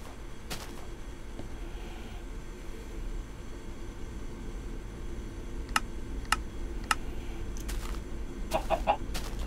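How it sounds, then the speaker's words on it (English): Chicken clucking in Minecraft Pocket Edition, a few short clucks and clicks scattered over a low steady background hum. "chicken."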